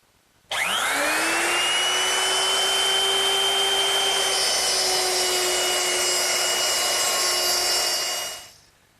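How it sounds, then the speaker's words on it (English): A handheld router cuts a mortise into a wooden door for a medicine cabinet, guided by a fence. The motor spins up quickly into a loud, steady whine that holds for about eight seconds and then winds down, with no talking over it. "And I've set it up in my router with this guide fence, which controls the width of the cut."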